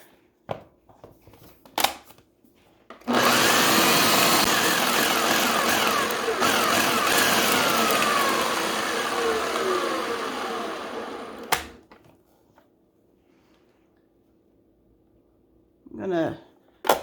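Food processor pulsing chocolate for paleo brownies: one long loud grinding whirr of about eight seconds after a few small clicks and knocks, then it winds down, with another brief whirr near the end.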